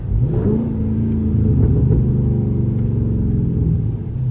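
A Dodge Charger or Challenger 392 Hellcat engine in eco mode revs up close with a deep, steady rumble and rising harmonic drone, loud and continuous, with no talking.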